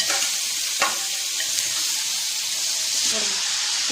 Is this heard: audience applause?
no